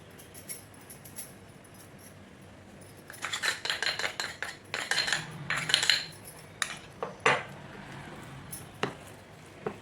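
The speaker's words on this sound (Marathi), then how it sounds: "कॉर्नफ्लॉवर घालून हे व्यवस्थित मी मिक्स करून घेतलेलं आहे" A spoon stirs a potato and cornflour mixture for potato rolls in a bowl, giving a burst of close clinks, scrapes and taps against the dish, briefly quiet at first, then irregular and fairly loud toward the end.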